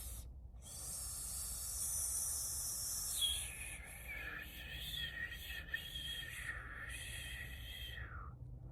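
A whispered imitation of winter wind blowing while it snows: a soft, breathy, continuous hiss that rises and falls for several seconds, close and quiet, with a higher whistling tone sweeping through the middle.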